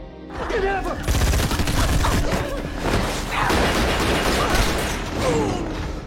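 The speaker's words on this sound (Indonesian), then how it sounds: "Sempat terjadi tembak-tembakan" Bursts of rapid gunfire in a film shootout crackle and pop in quick volleys amid mechanical clatter and crashes, with voices shouting intermittently.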